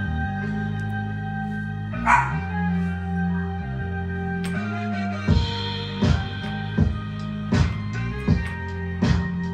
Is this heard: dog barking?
yes